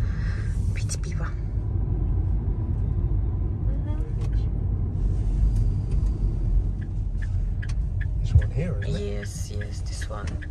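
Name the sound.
car driving to a restaurant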